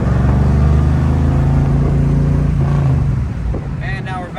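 A car engine drones loudly after a downshift into third gear, with a steady low rumble that eases off near the end while wind noise rushes past.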